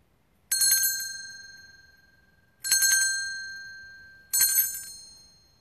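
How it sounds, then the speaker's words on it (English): A bell rings three separate times in a folklore and incense setting, each strike a bright, sustained ring that slowly decays, spaced about two seconds apart, clear and alone with no talk. "somebody rings a bell 3 times"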